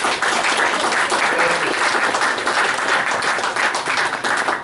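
A room of attendees at a Nassau Community College board of trustees meeting breaks into loud, sustained applause, thick and even throughout with no speech over it.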